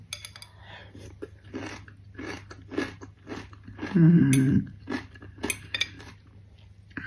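Someone eating home-fermented sauerkraut with a fork, making crisp crunchy bites and chewing close to the microphone, with a loud clink of cutlery on a dish midway and a steady low hum beneath.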